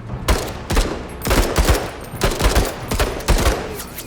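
Bursts of gunfire in the video game Menace, a string of sharp, loud shots in uneven clusters, close and punchy, with no talk over them.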